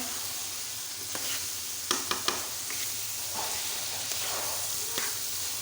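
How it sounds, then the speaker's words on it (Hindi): Lentils (chana dal) frying with mutton in a handi pot over a gas cylinder stove give a steady close sizzle throughout, with a few sharp clicks of stirring scattered across it. "तो अब हम तकरीबन 10 मिनट के लिए अपनी दाल को भी भूनते हैं। दाल को भी अच्छी तरह से हमने फ्राई करना है मटन के साथ।"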